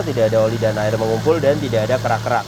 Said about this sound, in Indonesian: Dan ini suara mesinnya halus, standar normal, tidak ada suara-suara kasar.